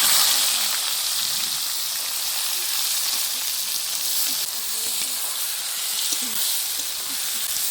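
Chopped onions frying in oil for chicken kanti, a steady loud sizzle throughout with no talking.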